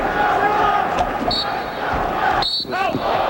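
A wrestling arena crowd at the 2004 NCAA Division I Championships heavyweight bracket roars and cheers after a Greco-Roman arm throw, a broad wash of voices with a brief sharp swell, commentators talking over it.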